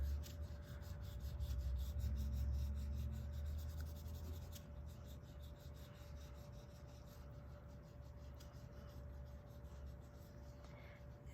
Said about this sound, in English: Just rub it back and forth where it meets, and it'll really pull it out.